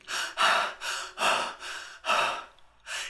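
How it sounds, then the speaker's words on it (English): A woman pants loudly in quick, heavy breaths, about six sharp gasping inhales and exhales in a steady rhythm, close and on their own with no other sound. "panting loudly"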